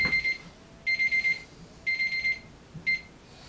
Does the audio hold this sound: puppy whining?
no